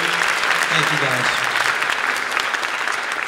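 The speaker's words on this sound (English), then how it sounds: "Can we give them a round of applause for the work that they do?" Audience applause at a congressional town hall in a high school, a dense burst of clapping throughout with a voice briefly audible under it early on.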